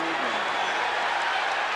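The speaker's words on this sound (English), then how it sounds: "And the fans cheering because number 3 is coming back." Basketball fans cheering in an arena, a steady broad roar of crowd noise and applause filling the space without a break.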